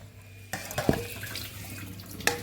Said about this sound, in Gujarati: પાણી આમાંથી પૌવામાંથી આપણે નીતારી લેશું